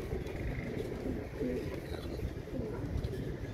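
Imamdeen pigeons coo softly in a loft, with low, rolling cooing calls repeating close by over a murmur of background noise.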